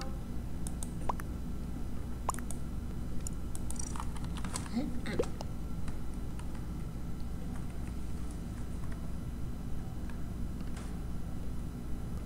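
Quiet computer keyboard typing during an online Among Us session, with irregular bursts of soft clicks and taps, fairly close but low in level, with no talk over it.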